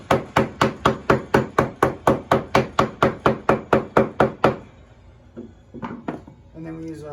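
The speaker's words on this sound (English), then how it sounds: "And then we're just gonna tamp this." A block tamps clay into a tile stamp mold, about twenty loud, evenly spaced thuds in quick succession, then a few scattered knocks and a voice at the very end.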